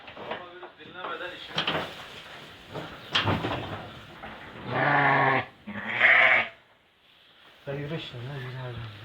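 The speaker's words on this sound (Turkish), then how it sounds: "Bu gördüğünüz süper koyunlar Türkiye'ye gidiyor." Sheep bleat loudly in several drawn-out calls close by, pregnant sheep in Mamak, Ankara, mixed with people talking and shouting around the animals.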